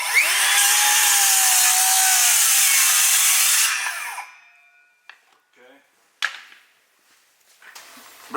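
Saw cuts through wood loudly for about four seconds, a steady dense whine that then cuts off, followed by scattered knocks, clatter and handling noises.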